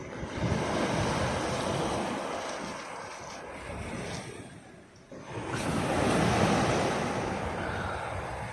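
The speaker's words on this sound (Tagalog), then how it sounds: "kalma talaga dito yung alon" Gentle sea waves wash and hiss continuously with soft wind, easing briefly in the middle before swelling again, with no voices.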